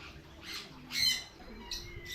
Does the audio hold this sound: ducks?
yes